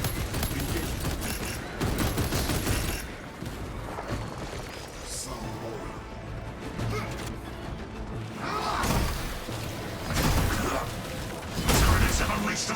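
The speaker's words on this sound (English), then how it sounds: "Servo gun is fully operational." Servo gun turret fire in Warhammer 40,000: Space Marine 2, dense bursts of rapid shots mixed with heavy thumps and booms, sustained across the whole stretch, loud battle noise under a synthetic in-game voice.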